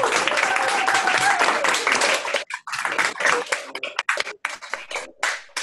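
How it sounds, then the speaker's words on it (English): Audience applause for Pro Football Hall of Famer Charlie Sanders at an event, a loud dense burst of clapping that breaks up and thins into scattered claps after a couple of seconds. "Please join me and give him a warm round of applause to Pro Football Hall of Famer, Mr. Charlie S"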